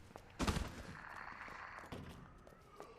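Gunfire from the Resident Evil 2 video game: one sharp, fairly loud shot or short burst near the start, then quieter echoing tail and faint background game noise, with no speech.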